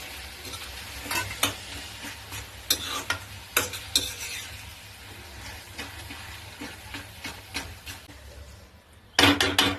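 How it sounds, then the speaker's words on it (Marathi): Roasted brinjal bharit stirred and mixed in a hot pan, with steady sizzling under repeated close spoon scrapes and taps, ending in a louder burst of frying. "आता याच्यामध्ये आपण जे भरीत काढून घेतलेलं वांगे भाजलेलं ते टाकायचं आणि चांगलं एकत्र करायचं"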